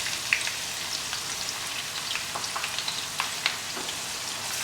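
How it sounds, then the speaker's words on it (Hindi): Chopped onions hit hot oil for a Bengali rohu fish curry gravy, giving a steady close sizzle with scattered crackling pops throughout, no voices. "अब धीरे से हम ये प्याज इसमें डाल देते हैं।"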